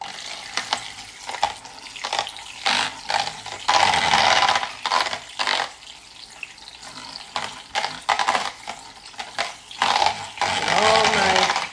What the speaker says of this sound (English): see if I can get this pudding mixed in here with this attachment